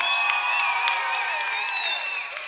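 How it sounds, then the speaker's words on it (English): A concert crowd cheers, whoops and claps for the bands, a dense sustained roar of many voices with shrill shouts and scattered applause. "give a massive round of applause to all the other bands who have played tonight"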